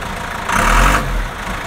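A vehicle engine runs steadily while gears are shifted, swelling briefly into a louder low rumble for about half a second before settling back to an even idle, close by with no talking.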